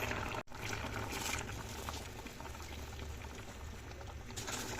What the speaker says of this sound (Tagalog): Lagay na natin yung gata.